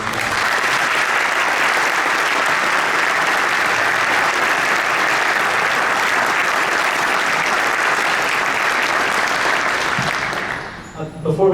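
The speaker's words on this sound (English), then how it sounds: "Let's give them another round of applause." Loud, sustained audience applause fills a concert hall after a youth wind ensemble performance, dense steady clapping from a large crowd lasting about ten seconds before fading out abruptly.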